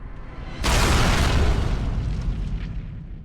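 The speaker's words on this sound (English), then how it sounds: "I will destroy the anvil as agreed." An anvil is smashed and destroyed in the video game Dragon Age Origins, with a sudden loud booming crash that bursts in and then rumbles and decays over a few seconds.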